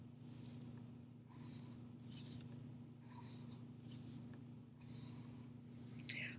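A pen draws lines of little hills between two lines on paper, making a steady scratchy rubbing in repeated strokes with brief pauses, close and clear over a low background hum.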